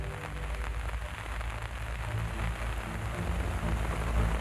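Heavy rain lashing down in the African wild, a dense, continuous hiss of drops on surfaces that holds steady and grows slightly fuller throughout.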